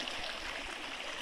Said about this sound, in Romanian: E o apă curgătoare cu mai multe bolboane din asta